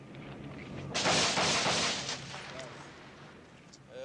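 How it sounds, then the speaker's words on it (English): A sudden burst of gunfire cracks out in Beirut, then rolls and echoes away, with faint scattered shots following in the distance. "As gunfire echoed all around"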